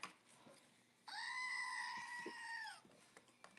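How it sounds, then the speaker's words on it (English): A goat screaming sound effect: one long, loud, human-like bleat lasts nearly two seconds, standing out sharply against a faint, quiet background. "Scream that goat."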